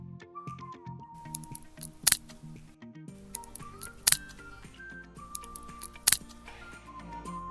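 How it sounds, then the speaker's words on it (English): A refrigerator clicks and snaps as its internal components expand and contract with temperature changes: three sharp, isolated clicks land about two seconds apart over a soft, steady musical background, with no voices. "Do you hear a clicking or snapping sound? Like something hitting a solid object?"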